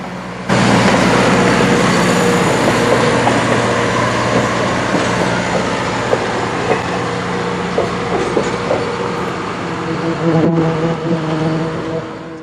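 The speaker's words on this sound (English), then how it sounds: "As the train was departing" A train pulls away past a canal lock, its wheels rumbling and clacking loudly and steadily over the rails close by, with no voices.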